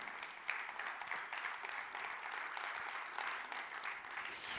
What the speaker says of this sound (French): je vais vous demander, s'il vous plaît, d'applaudir